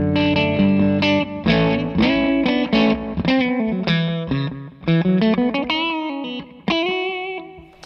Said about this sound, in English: I really like that delay sound, really crunchy and broken as well